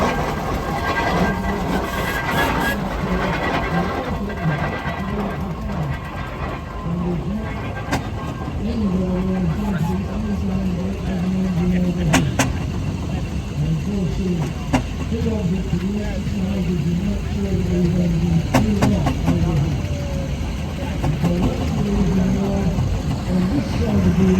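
A steam engine at the Netley Marsh Steam & Craft Show chuffs and rumbles nearby, its mechanical churning rising and falling steadily. People talk over the engine noise.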